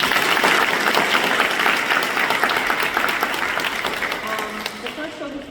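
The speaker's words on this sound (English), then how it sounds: "If I could get a round of applause for that accomplishment." Audience applause at a Hispanic Chamber of Commerce event in Jacksonville, a dense, steady round of many hands clapping that fills the clip and tapers slightly toward the end, with no talk over it.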